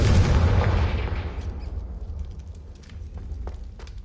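A loud, deep Confringo spell explosion in Hogwarts Legacy opens with a heavy blast and rumble, then fades over a few seconds into a low hum with faint scattered crackles.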